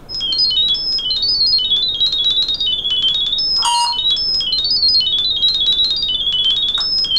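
A smartphone emits a sound-wave pairing tone to set up a SecureCam X1 Wi-Fi camera: rapid, loud high-pitched warbling beeps stepping between pitches continuously, briefly broken by a short chime.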